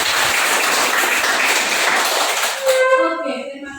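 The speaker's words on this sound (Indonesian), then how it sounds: "Berikan tepuk tangan dari kelompok." Applause from a classroom group of students, a dense sustained clatter of many hands lasting about three seconds, then tapering into scattered claps with voices beginning to talk over the end.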